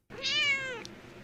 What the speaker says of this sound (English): Just a cat making a cameo, wanting attention.